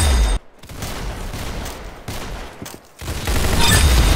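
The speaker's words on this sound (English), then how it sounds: "Very good shooting." Dense gunfire from a shooting video game rattles in loud bursts, broken by two short silent gaps, with no voices over it.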